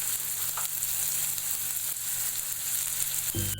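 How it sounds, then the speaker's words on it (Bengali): Marinated chicken pieces fry in hot oil in a pan for a spicy chicken jhal, giving a steady, close, even sizzle with a faint stirring scrape, no voices. "এখন আমি ভালোভাবে এগুলোকে ভেজে নেব।"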